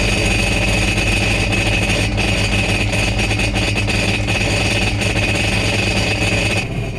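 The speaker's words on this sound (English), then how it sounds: "We're going to start the engine for about a minute or so to get that oil all heated up and ready to go." A Sea-Doo Switch engine runs steadily for an oil change flush, a loud continuous droning hum with a constant tone and no voices over it.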